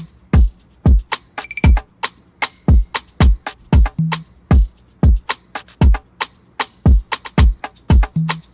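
A shaker plays within a programmed Spanish-style beat, its crisp bursts riding on punchy kicks in a steady, loud rhythm, close up with no talking.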